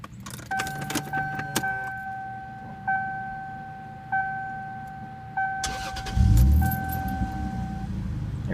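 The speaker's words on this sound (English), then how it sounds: "I just want to show you I have the 2JZGTE swap. Just turnkey." A 1995 Lexus GS300 fitted with a Toyota Aristo 2JZ-GTE swap has its key turned: jingling keys and clicks, then a pulsing dashboard chime repeating several times before a low engine rumble joins in.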